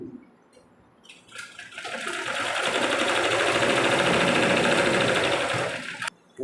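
Sewing machine stitching a pillow cover, a steady rapid whirring hum that rises in after a quiet start and runs continuously for several seconds before stopping abruptly, close and alone.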